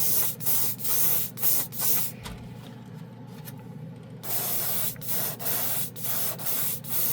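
Spray paint from a military color line is applied to test cards in a series of short, close hissing bursts. A longer continuous spray fills the middle, and clipped puffs resume after it.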